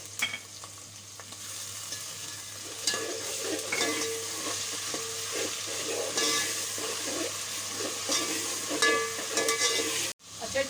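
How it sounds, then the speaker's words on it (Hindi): Ginger and garlic go into softened onions frying in a pan for smoky aloo baingan, giving a steady loud sizzle with scraping stirring throughout, then cutting off abruptly near the end. "अब मैं इसके अंदर डालूंगी अदरक लहसुन।"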